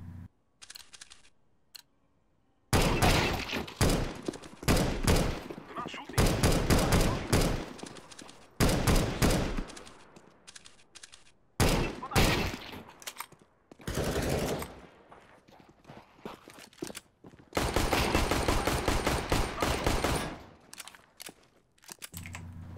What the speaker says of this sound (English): I'm shooting Crusher in the head, I'm shooting Rock in the head, I'm shooting Gunner in the head.